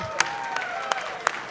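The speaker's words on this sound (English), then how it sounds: "You guys have to applaud a lot" Audience at a collector car auction clapping after a sale, a short burst of scattered applause with a few louder claps standing out.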